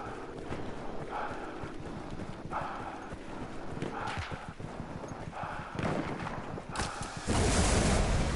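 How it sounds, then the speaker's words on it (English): Horse hooves clip-clop in a steady galloping rhythm in the World War I shooter game Battlefield 1, with faint wind and ambient battle noise around it and a louder burst near the end. "I'm a flamethrower man on a horse."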